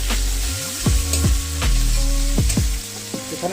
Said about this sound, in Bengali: সুন্দর করে নাড়িয়ে ভেজে নেব